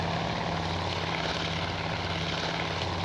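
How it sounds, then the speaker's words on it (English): Douglas SBD-3 Dauntless propeller search planes drone steadily in a naval air combat game, a continuous loud engine hum with a low pulsing tone and no pauses or voices. "Each Douglas SBD-3 Dauntless is flying a search fan looking for the enemy."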